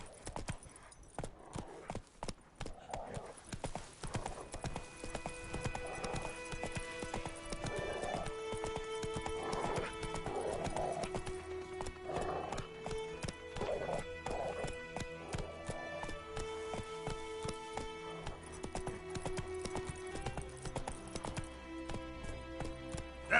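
Roach, a horse in The Witcher 3 video game, gallops in steady rhythmic hoofbeats with occasional whinnies, layered over a continuous orchestral game score for the whole stretch.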